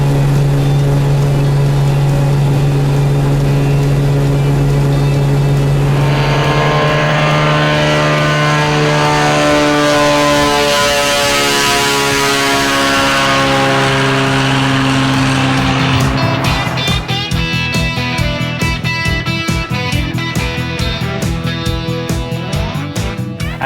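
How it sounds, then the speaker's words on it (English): A small bush plane carrying fishermen to a remote Alaskan lake drones loudly with a steady propeller and engine hum, the pitch shifting and rising as it passes close and throttles up, dominating throughout without talk. "So Vernie took us up in one of his planes to drop off some fishermen who were going fishing in a remote area."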